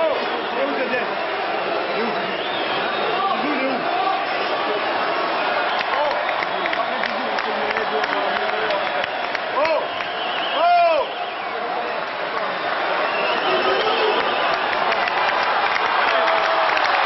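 Crowd applause at a 2006 World Cup football event, a steady dense wash of clapping throughout, with a brief louder burst midway.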